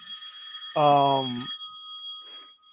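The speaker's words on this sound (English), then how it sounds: "Why does your ringtone sound like a phone from the 90s" An old-fashioned telephone bell ringtone rings as a steady, thin, high tone across the whole moment, with a short voiced sound cutting in over it partway through.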